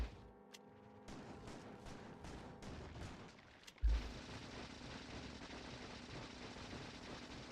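Gunfire in Factorio: Space Age, fired with normal ammo, comes as rapid bursts and a sustained rattling barrage after a sharp loud hit, with a steady mechanical hum beneath, fairly faint overall.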